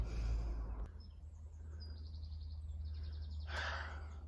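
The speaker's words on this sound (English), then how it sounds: "Listening to birds chattering." Small birds chatter faintly in a garden allotment: scattered high chirps and short trills over a low steady hum, with no speech.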